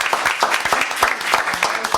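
Applause from an audience at a school board meeting, a brief burst of scattered hand claps that sounds fairly close, with some background voices mixed in.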